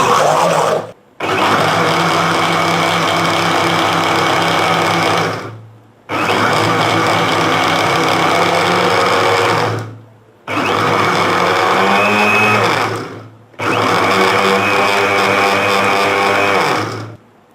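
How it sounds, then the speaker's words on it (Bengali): A blender whirs loudly through pomegranate for juice in four long, steady bursts, each separated by a brief silent pause. "আমি এটাকে সুন্দর করে ব্লেন্ড করে নিচ্ছি, দেখুন ব্লেন্ড করে নিচ্ছি সুন্দর"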